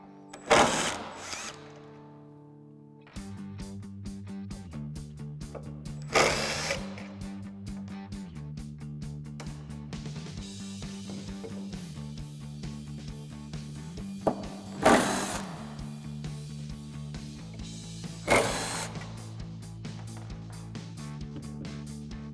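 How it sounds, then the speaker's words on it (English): An impact driver with a T45 Torx bit removing the factory hinges from a 2021-2023 Ford Bronco: several loud bursts of rapid hammering whir, close by, separated by a lower steady motor hum. "So we're going to grab our T45 Torx bit on our impact and go ahead and get these off."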